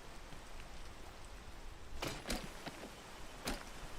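Steady, faint hiss of rain falls in the climbing game Peak, a constant wash of drops with a few soft clicks and thumps breaking through near the end.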